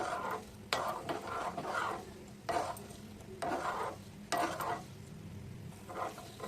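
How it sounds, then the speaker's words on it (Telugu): Fenugreek seeds fry in hot oil with a constant soft sizzle, broken by rhythmic scraping strokes of a spoon stirring the pan, close and without talk. "ఆయిల్ బాగా కాగిన తర్వాత మెంతులు కావాల్సినవి వేసుకోండి. ఇలా బాగా వేయించుకోండి, కొంచెం కలర్ రావాలి."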